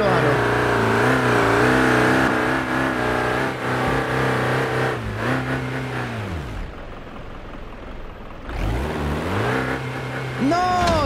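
Toyota FJ40 engine in BeamNG.drive straining on a steep off-road climb, revving up and down in rising and falling sweeps, with a brief drop-off midway before climbing again; loud and close, people talking over it.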